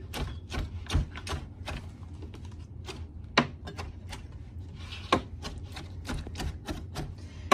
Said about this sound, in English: the cherries will continue to break down as we cook them. So, you know, just a nice rough chop